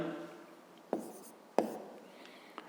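Pen writing a math answer on paper, faint close scratching strokes broken by a few sharp taps, quiet and steady with no talking.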